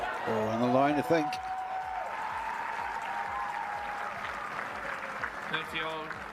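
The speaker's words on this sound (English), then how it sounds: "You could tell it was because the crowd had gone bonkers again." A tennis crowd at the Indian Wells Open cheers and applauds during a third-round match, a steady roar of clapping with talk heard over it throughout.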